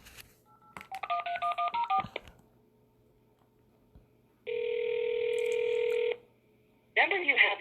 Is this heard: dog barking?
no